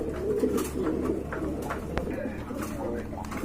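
Racing pigeons cooing in soft, repeated low burbles close by, with a voice faintly mixed in.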